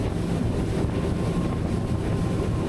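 A Technohull GTX powerboat runs at speed at about 4,400 RPM through wind and chop, with a dense continuous roar of engine, hull slap and wind buffeting the microphone, loud and unbroken.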